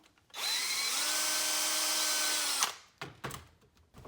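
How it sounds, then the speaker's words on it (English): A power drill whines at steady high pitch for about two seconds, biting through soft plastic car trim on a Honda Civic, then stops, followed by a few clattering handling knocks. "we're just going to drill a hole right through here. It's just simple plastic."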